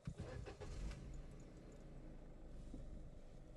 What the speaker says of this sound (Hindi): मैं आपको दिखाता हूँ कि इंजन की स्टार्टिंग साउंड